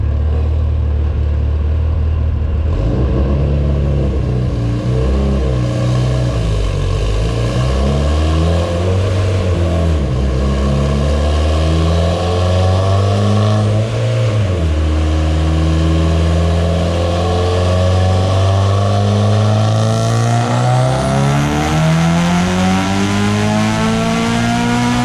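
Loud and close, a turbocharged 2.3L Evo engine with GSC R2 cams, a Sheepy FF T4 twin scroll turbo kit and a Garrett HTA8 revs repeatedly on a test run, its pitch swinging up and down and climbing hard near the end.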